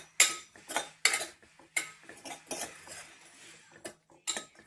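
Sharp metallic clinks and scrapes of a utensil smashing salt and chilli powder in a surgical steel pan, coming in irregular close bursts with short pauses.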